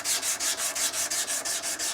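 An axe edge being cleaned up during sharpening, a steady rasping rub repeated in about a dozen even strokes, close and fairly loud with no talk.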